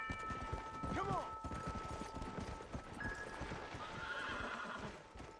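A horse in the video game Red Dead Redemption: Undead Nightmare gallops with steady rapid hoofbeats and gives a sharp whinny early on, the clip-clop continuing throughout at close range with faint tonal game sounds.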